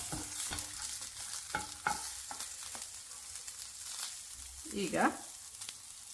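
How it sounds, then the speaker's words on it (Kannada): Green chillies fry in a pan for fenugreek-leaf chutney, giving a steady low sizzle with a few sharp stirring scrapes and clinks; a voice speaks a single word near the start. "ಈಗ ಹಸಿರು ಮೆಣಸಿನಕಾಯಿ ಸ್ವಲ್ಪ ಫ್ರೈ ಆಗಿದೆ ನೋಡಿ, ಈ ಥರ ಬೆಳ್ಳಗೆ ಆಗಿದೆ"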